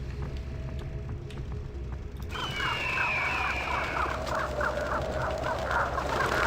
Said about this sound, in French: On va utiliser les corbeaux.